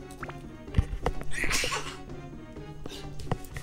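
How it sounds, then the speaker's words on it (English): A sneeze bursts out midway through a let's play of the video game Dark Cloud, one sharp nasal blast over game sounds, with smaller breathy catches before it. "oh no, I got a sneeze coming"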